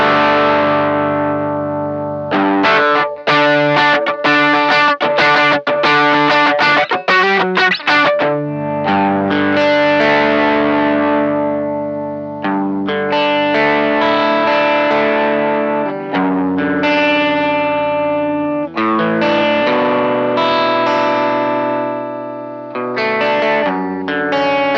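Electric guitar through an overdrive pedal, drive halfway up, with a crunchy overdriven tone plays chords and riffs for a sustained stretch, loud and close, with short breaks between phrases.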